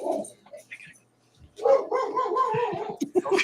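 A voice playfully imitates a dog, giving a run of barking woofs after a short pause, loud and close, with a brief murmur of talk before it.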